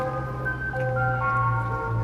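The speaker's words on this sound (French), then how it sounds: "c'est un camion qui vend des glaces" An ice cream truck selling ice cream plays its tinkling jingle melody. The tune rises and falls in sustained chime-like notes over a low engine hum, heard clearly from nearby with no talking.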